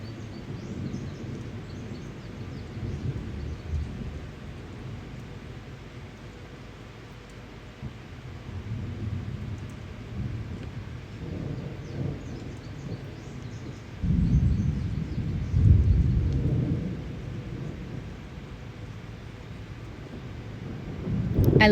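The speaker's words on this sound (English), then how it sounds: "Listen to that thunder." Thunder from a weekend storm that broke the summer heat rolls low and fairly distant, long rumbles swelling and fading under steady wind and rain hiss, with a stronger peal near the middle and another building at the end.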